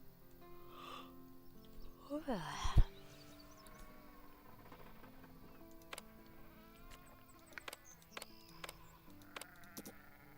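Sheep in the farming game Farm Manager 2021 give a clear bleat early on, followed by quieter game clicks and light ambient chirps, with no talking.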